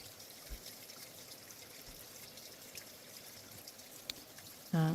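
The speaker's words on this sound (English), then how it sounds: "The water coming out of the bank is freezing cold." Freezing-cold spring water trickles steadily out of a bank in a wild outdoor spot, a soft continuous stream with a few faint drips, ending in a sudden louder splash or knock.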